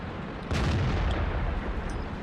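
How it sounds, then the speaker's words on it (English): Artillery fire in World of Tanks, a deep booming blast with a sustained rumbling tail that starts about half a second in and continues under a steady background of game noise. "I think there's some artillery cover here"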